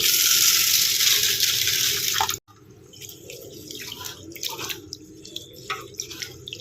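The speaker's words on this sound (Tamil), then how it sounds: "இப்போ இந்த பருப்பு அரிசியை வந்து நல்லா வாஷ் பண்ணிக்கலாம்" Dal and rice are rinsed in water: a loud running tap fills the vessel at first, then stops abruptly, giving way to closer sloshing, swishing and dripping as the grains are rubbed and stirred by hand.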